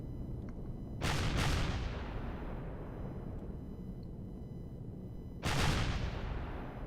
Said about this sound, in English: Trying to get some secondary explosions out of some of these.